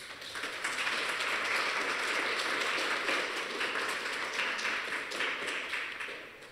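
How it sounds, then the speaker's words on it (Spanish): A crowd at a school math olympiad awards ceremony keeps up a steady, moderately soft round of clapping, evenly sustained throughout with no voices over it. "Damos un fuerte aplauso"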